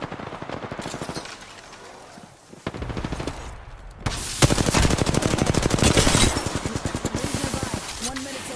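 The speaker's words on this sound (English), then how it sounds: "Getting shot at." Rapid automatic gunfire from an Apex Legends match on PS4, loud bursts of machine-gun fire with dense overlapping shots, intensifying after a brief lull, with a player's voice talking over the firefight.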